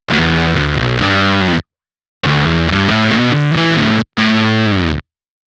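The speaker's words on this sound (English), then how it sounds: "I'm pretty sure we can get a pretty synthy fuzz sounding bass" Bass run through a Champion Leccy fuzz with the gate at its most aggressive and the bias turned all the way up, a buzzy, synth-like fuzz in three bursts of notes, each cut off abruptly into silence.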